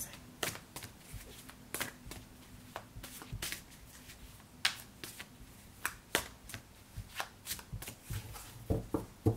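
Tarot cards are shuffled by hand in quick, crisp riffling bursts and slaps, close and fairly quiet, repeating irregularly throughout with no talking.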